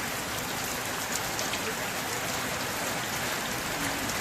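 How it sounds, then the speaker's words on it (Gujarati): Heavy rain falls steadily during a road trip from Rajkot to Mahuva in Gujarat, a dense, constant hiss that fills the whole stretch at an even, loud level with no pauses. "નકરો વરસાદ ચાલુ છે"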